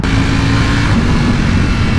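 A 2020 Ducati Panigale V4S motorcycle engine pulls hard under full power in race mode, a loud, steady mechanical roar held close and constant throughout.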